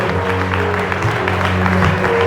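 A church congregation applauding steadily through the whole moment, dense clapping under sustained organ or keyboard tones, with faint voices mixed in.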